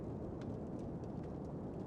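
A thunderstorm with steady heavy rain makes a constant broadband hiss with a low rumbling bed and scattered drop taps, with no voices.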